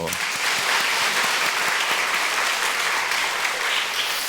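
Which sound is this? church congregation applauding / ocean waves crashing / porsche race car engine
church congregation applauding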